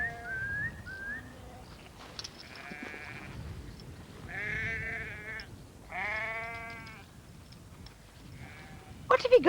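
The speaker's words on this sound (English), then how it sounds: "Some of the sheep tried to go the wrong way, but Cal soon rounded them up." Sheep being herded by a sheepdog bleat several times, clear and fairly close, with a quiet outdoor background and a short sharp noise at the end.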